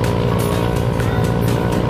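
A stock Yamaha Mio i125 scooter, fitted with a new center spring, a 1000 rpm clutch spring and 9 g flyballs, hums under way with a steady, close engine drone and a slightly buzzy tone, with no one speaking.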